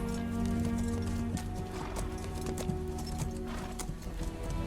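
Horse hooves clip-clop at an unhurried trot in an animated pirate film, steady rhythmic hoofbeats over a dense orchestral-like background with a brief whinny-like tone, no talking.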